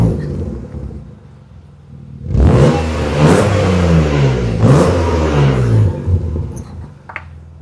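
A BMW M Roadster fitted with a Turner exhaust grumbles at idle, then breaks into a loud, close run of revs with rising and falling engine tone before dropping back to a low rumble.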